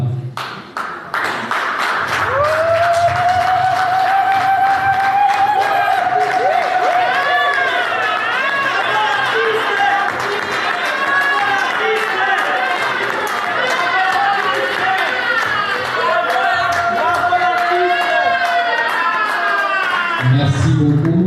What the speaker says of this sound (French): Je demande à tout le monde de se lever et d'applaudir frénétiquement cette grande dame.